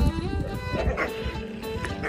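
A dog at a nomadic household in Mongolia gives a few short, close yips and barks over a busy background of kitchen and household noise.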